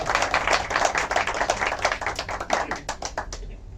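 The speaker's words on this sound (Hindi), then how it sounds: "एक बार फिर से योगेश भाई जी के लिए तालियां।" An audience applauds a singer at a Bansari group music programme: dense, steady clapping with sharp individual claps that runs for several seconds and thins out toward the end.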